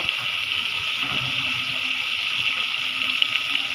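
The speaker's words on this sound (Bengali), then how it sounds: "এখন এখানে আমি একটু পানি দিব।" Water is poured into a pan of braised red chicken curry, a steady, even gushing stream lasting throughout without pause or voices.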